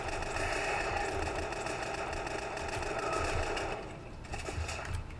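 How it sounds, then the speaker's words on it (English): An MP7 submachine gun in the top-down zombie shooter SAS Zombie Assault 3 fires in a fast, continuous buzzing stream of shots at moderate volume, then eases into shorter bursts. "We're just spamming this MP7"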